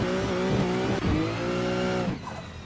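A drift car in the racing game Assetto Corsa accelerates hard, its engine rising in a loud, continuous roar with layered harmonics that briefly dips and climbs again, then eases off near the end.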